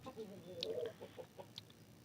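Chickens clucking softly in a backyard shelter, a few short, faint clucks and calls scattered over a quiet background.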